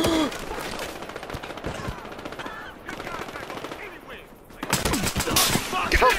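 A nail gun fires in the multiplayer shooter game Battlefield Hardline, making rapid, repeated sharp bursts that grow louder and denser near the end, mixed with game effects and ambient battle noise.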